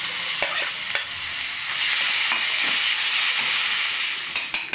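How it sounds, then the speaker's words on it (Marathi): Grated raw potato fries in hot oil with cumin, giving a steady crackling sizzle and hiss, with occasional stirring scrapes cutting through near the pan. "या गरम तेलात आपण आता बटाटा वाफवून घ्यायचा आहे."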